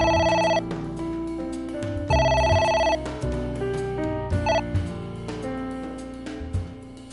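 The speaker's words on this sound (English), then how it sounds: "It won't stop ringing." An in-game telephone rings in AI: The Somnium Files, a loud repeating electronic bell tone cycling in bursts over a steady backing of game music, with no talk.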